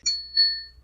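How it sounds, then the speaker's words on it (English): A game show style buzzer gives two bright, ringing tones in quick succession, clean and close against near silence, the second note lingering and fading. "And Faith's buzzer is going to sound like this."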